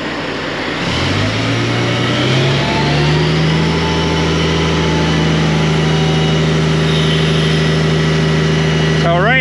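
A Kenworth W900 truck engine idles loudly and close by, a low steady rumble that settles in after a brief rise at the start and holds evenly throughout.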